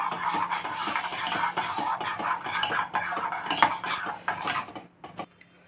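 A metal spoon clinks and scrapes rhythmically against a pot while stirring a ragi flour mixture, steady close strokes for about five seconds before stopping.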